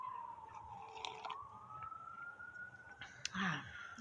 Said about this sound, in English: It's really early in the morning for some sirens.